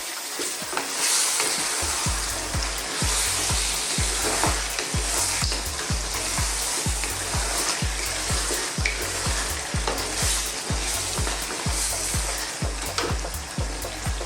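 Lamb karahi with fenugreek stirred in a hot pan, a loud continuous sizzle broken by rapid rhythmic scraping strokes of the spoon, close and without talk.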